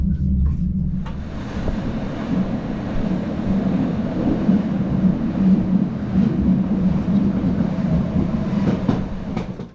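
The Bernina Express train rumbles steadily along the rails near Alp Grüm with a continuous low roar and faint clicking, loud and close, with no voices.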